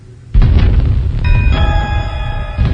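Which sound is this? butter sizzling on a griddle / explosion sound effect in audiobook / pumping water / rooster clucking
explosion sound effect in audiobook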